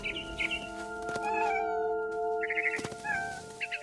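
A cat meows repeatedly in What Remains of Edith Finch. The short, clear mews come in a series over a steady droning backdrop of in-game music.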